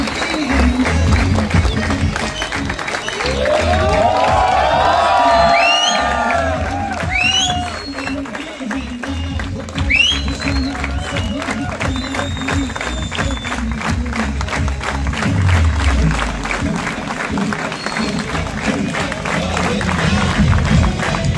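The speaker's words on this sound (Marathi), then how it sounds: "आर्यन्स टाळ्या वाजत राहिल्या पाहिजे" A crowd claps and cheers at a Govinda troupe practice gathering, applause building and rising with shouts and whistles, while people speak over parts of it.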